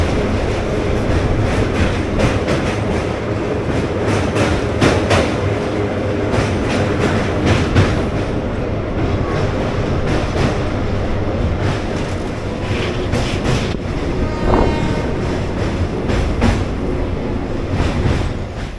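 The Paharia Express runs from Howrah toward Digha, its carriage rattling and rumbling with rhythmic clickety-clack beats over rail joints, heard from on board as a constant loud roar with occasional wheel squeals.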